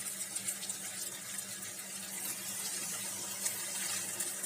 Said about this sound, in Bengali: এখন আমি সিদ্ধ করার জন্য 1 কাপ মতো পানি দেব।